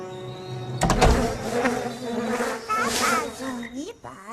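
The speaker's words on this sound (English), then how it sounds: "You'll have to get rid of a swarm of giant wasps." Giant wasps swarm in a video game cutscene, a busy buzzing drone that swells in loudly after a sharp onset and wavers in pitch, mixed with game music and effects.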